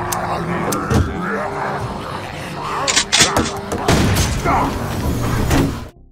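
Gunfire in a zombie film: several sharp, loud shots and heavy thuds ring out at irregular intervals over a tense, rumbling background score.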